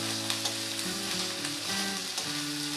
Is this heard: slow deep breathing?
no